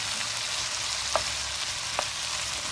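Shrimp frying in a pan with tomato, a steady broadband sizzle with two brief sharp pops or utensil clicks, close and continuous throughout.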